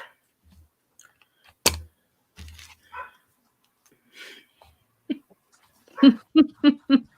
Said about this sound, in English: Bailey just barked too because Artie just got home